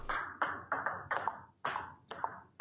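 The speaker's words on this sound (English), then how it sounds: "You can hear the paddle sound, feel it." Table tennis paddle pushing a ball back and forth in a training drill, sharp ping-like knocks at a quick even rhythm, about eight close hits with no talk.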